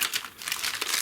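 Plastic packaging from a wax seal kit crinkles and crackles in short bursts, close and fairly loud, with no talk over it.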